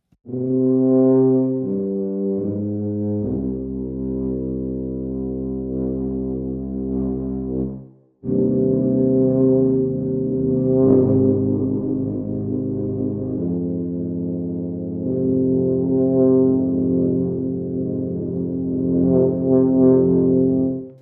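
Deep, sustained brass notes play one after another, held long and steady with a brief pause between phrases, rich and resonant.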